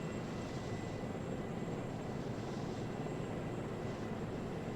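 Apache attack helicopter in a video game, its steady rotor and engine drone filling the scene continuously at a moderate, even level with no voices over it.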